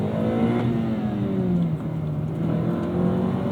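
A 2010 Acura TSX with a K24 engine and six-speed manual accelerates hard, its loud engine note climbing steadily, dipping briefly at a gear change, then rising again.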